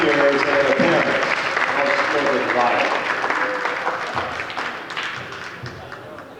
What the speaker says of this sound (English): How about a nice round of applause for all of our seniors and their parents?